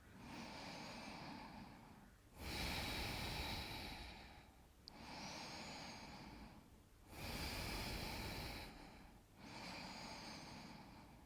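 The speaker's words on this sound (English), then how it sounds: "Another 2 deep belly breaths here." Deep belly breathing during a yoga session, slow cycles of long audible inhales and exhales, close and soft, with no talking.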